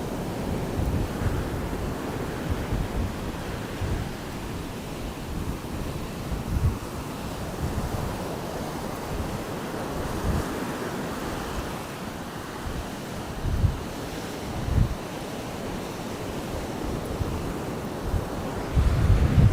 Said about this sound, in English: Man, it's windy now.